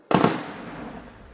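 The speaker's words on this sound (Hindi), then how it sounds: "आपने लगातार गोलियों की तड़तड़ाहट की आवाज सुनी, आपने बारूद के धमाके की आवाज सुनी" A single sharp, loud crack is quickly followed by a second report, then a long rumbling decay, like gunfire or an explosion heard during an army encounter with militants near Kokernag in Anantnag.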